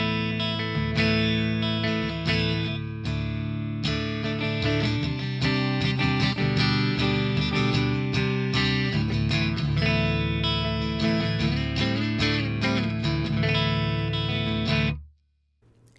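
Electric guitar through a modeled Fender Tremolux amp on an Axe Fx III, playing a clean tone with a touch of break: sustained ringing chords and picked notes, steady and fairly loud, ending in an abrupt cut to silence.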